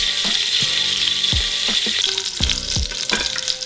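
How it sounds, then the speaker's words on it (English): Oxtails, short ribs and beef shins brown in a pot for birria broth with a loud, close sizzle and crackle, punctuated by meat being moved and knocking against the pot. No voices are present. "So we're going to start off by browning these just to develop the flavour of the broth."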